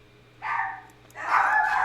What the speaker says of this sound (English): Puppies are barking.